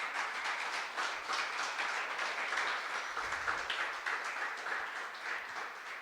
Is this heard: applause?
yes